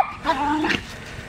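A puppy playing with a smaller dog lets out a short, high yip followed by a brief whimpering whine, close by, with a faint background hum.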